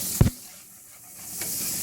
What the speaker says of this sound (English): We're just going to infuse the oil with it and the butter.